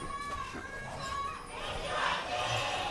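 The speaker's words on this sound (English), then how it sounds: "All the KT fans saved up their energy in order to give it to this last remaining chant that they had available to them" KT fans in an esports arena at a League of Legends LCK match cheer in a chant, a broad roar of many voices that swells toward the end.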